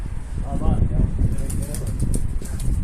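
Pigeons on a rooftop loft, soft cooing and wing flaps mixed with background voices and outdoor noise, moderately close.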